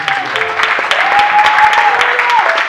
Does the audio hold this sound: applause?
yes